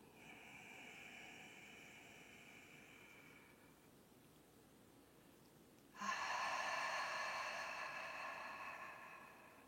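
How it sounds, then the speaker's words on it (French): Slow breathing during a face yoga exercise: a soft, drawn-out exhale that fades, a pause, then a stronger, louder breath of rushing air held for several seconds, close and alone. "on inspire et on expire"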